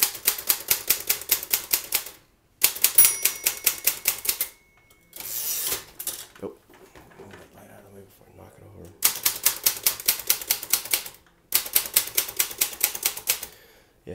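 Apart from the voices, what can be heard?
typing on a manual typewriter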